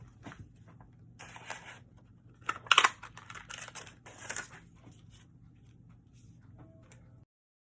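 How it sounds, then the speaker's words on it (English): A tailored tag punch cutting a piece of vellum gives short clicks and crisp snips near the middle, with a sharp crunch around three seconds, close and fairly quiet over a low steady hum. "another piece of vellum that I'm going to cut from the tailored tag punch"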